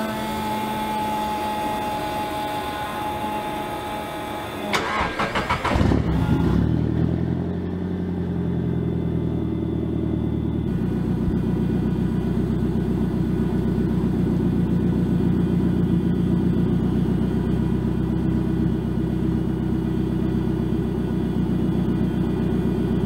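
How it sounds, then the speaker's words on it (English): A Nissan 180SX S13 with a fuel leak cranks briefly, catches and settles into a steady, close idle that runs on alone with a continuous low rumble. "I'm gonna start the S13"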